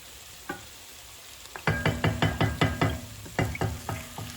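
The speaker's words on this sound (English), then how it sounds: "Here we're going to add the milk" Milk poured into a hot pan for chicken white sauce, bursting into loud sizzling with a rapid series of crackling, spitting pulses after a single early splash.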